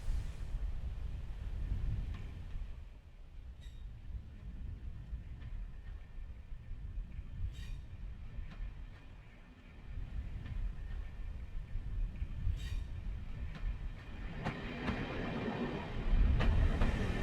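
A train passes on the North Norfolk Railway line, a low, fairly faint rumble that swells and dips, with a few sharp clicks and a louder surge near the end.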